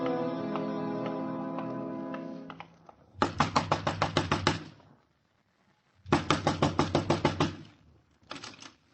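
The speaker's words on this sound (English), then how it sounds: "Next time, knock soft, mister." Two bursts of rapid, hard knocking on a door, each about a dozen sharp raps. Sustained music plays before the first burst, there is a pause between the bursts, and a few more raps come at the end.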